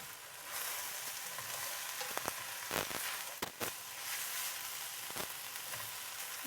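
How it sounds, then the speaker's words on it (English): Tomato sauce with basil and oregano sautés over medium heat in a pan, a soft, steady sizzle with a few louder clinks and scrapes of a spoon against the pan. "So you can let that saute for just a second."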